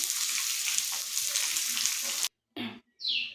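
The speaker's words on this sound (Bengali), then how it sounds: "এখন মাছ ভাজবো" Fish frying in hot oil, a loud, dense bright sizzle that stops abruptly, followed by two short bursts of hiss and splutter.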